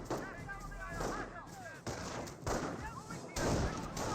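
Gunfire crackles around rifleman squads in the real-time strategy game Company of Heroes, a dense stream of shots and thuds with a few louder bursts, partly under a commentator's voice.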